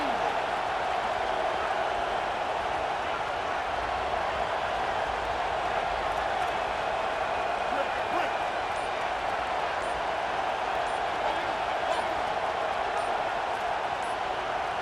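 Stadium crowd in an EA Sports College Football 27 game, a steady dense roar of cheering fans sustained throughout at even loudness, with no talk over it.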